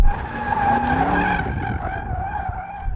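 Bentley tires squealing as the car is pushed to drift, a loud sustained screech with shifting pitch, close up, no talking over it.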